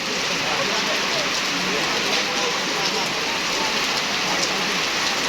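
Heavy rain falls on Faridpur city in a dense, loud, unbroken hiss of drops hitting surfaces, steady throughout with no pauses.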